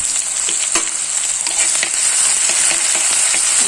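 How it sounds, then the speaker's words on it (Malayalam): Shallots, ginger and garlic frying in hot oil for a Thiruvananthapuram-style tuna coconut curry, a bright close sizzle with scattered spatula scrapes and stirring clicks, no talking. "നമ്മുടെ ഈ ചെറിയ ഉള്ളി ഇഞ്ചി പിന്നെ എന്തുവാ വെളുത്തുള്ളി എല്ലാം കൂടെ മൂപ്പിച്ചെടുക്കാം"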